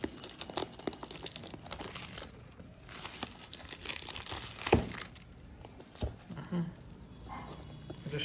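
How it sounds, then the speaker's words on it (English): Thin plastic wrapping is torn and peeled off a perfume box in a series of close, quiet crinkles and sharp crackles, with a few louder rips spread across the stretch. "Let's open this package. Wrapped in a thin layer of plastic."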